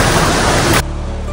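Rushing water at Vasundhara waterfall near Bhandardara, a loud, dense, steady roar that drops abruptly to a quieter hiss partway through.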